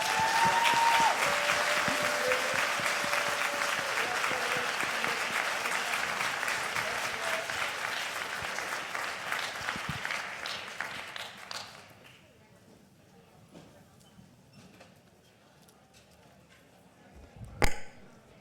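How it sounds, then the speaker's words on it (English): Audience applause closes a regenerative agriculture panel, a loud sustained crowd clapping for about twelve seconds that fades into quiet room noise, with a single sharp knock near the end. "So give a round of applause to..."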